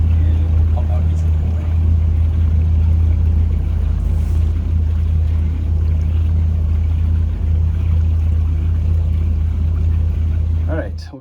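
The engine of a 1984 Chris-Craft Catalina 381 motor yacht idles to warm its oil, a loud, steady low drone that runs without pause.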